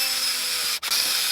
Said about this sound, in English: Now let's drill it again.